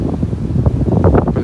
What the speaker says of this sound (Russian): В телефон задувает, и холодно